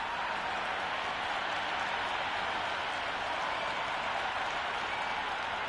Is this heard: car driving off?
no